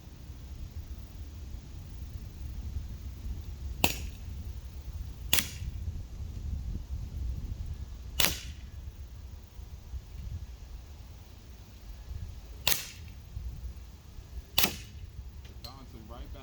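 Umarex SA10 CO2 air pistol firing at a coconut, five sharp separate cracks spread over several seconds, each a brief bright snap over steady low background noise.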